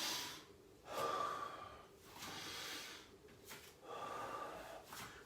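Heavy, gasping breaths during an abdominal home exercise workout, several loud breathy inhales and exhales repeating in an irregular rhythm, close up with no talk.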